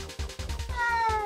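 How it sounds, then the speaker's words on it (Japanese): A cat meows loudly and repeatedly, close by, in a quick run of insistent calls with a drawn-out wail at the end, heard alone. "猫がうるさいですけども"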